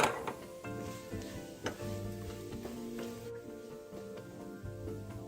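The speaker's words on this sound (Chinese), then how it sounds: "煸香後的花肉會排出很多油，可以先將油瀝出。" Pork belly sizzles and crackles as it stir-fries in its own rendered fat in a pan, steady hissing broken by occasional clinks and scrapes of the utensil.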